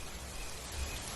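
Steady, dense hiss of heavy rain, constant and fairly distant, with no voices.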